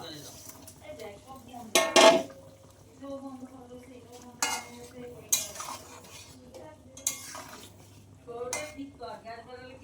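Pieces of rohu fish go into a pot of cauliflower and potato curry, with clanking spoon and pot knocks and splashy clatter in bursts, plus soft stirring and a low hum.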